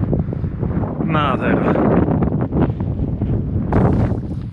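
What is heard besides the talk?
strong wind blowing on a mountain ridge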